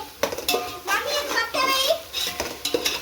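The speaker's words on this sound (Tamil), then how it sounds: "எவ்வளோ நேரமாக கிளறி இருக்கிற பாருங்க" A spoon scrapes and clinks against a pan while onions fry on high flame for biryani in a home kitchen, with metallic knocks and rattles in irregular bursts and voices talking faintly in the background.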